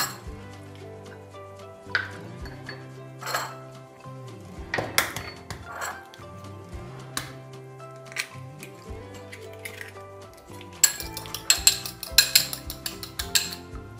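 Eggs being mixed in a bowl for bread halwa, heard as close clinks and taps of a utensil against the bowl, irregular at first, then a rapid run of clinks toward the end, with no talk.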